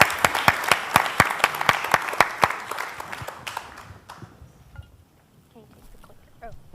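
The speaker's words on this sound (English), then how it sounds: "let's give them a round of applause." A conference audience applauds in loud, sharp, closely spaced claps that fade out after about four seconds, leaving a quiet room with faint scattered sounds.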